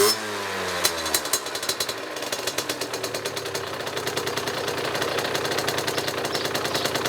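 A 50cc moped engine held at full throttle, a loud, rapid buzzing rattle that climbs in pitch from a lower start and settles into a steady high, sharp-edged whine, close and alone with no talk.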